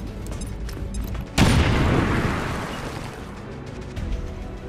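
An explosive goes off in XCOM 2, one loud booming blast that hits suddenly and then rumbles and decays over a couple of seconds, with a smaller thud later on.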